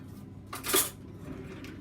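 A big spoon knocking and scraping inside a mixing bowl of cake batter, one clear bright clink amid quieter shuffling scrapes.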